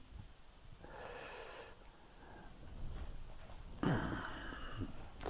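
A wet, forceful nose blow in two bursts, the second louder and longer, close to the listener with no talking.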